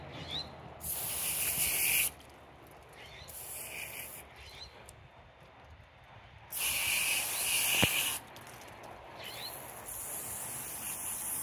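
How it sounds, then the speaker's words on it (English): A stiff garden hose sprays in bursts to rinse scales off a rockfish fillet, with loud hissing spray starting and stopping against quiet gaps and no talking. "Just to rinse the scales and stuff off of the meat."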